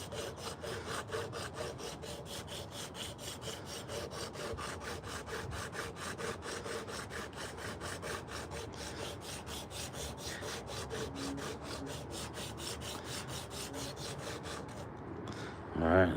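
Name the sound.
sanding a wooden spoon with a piece of old belt sander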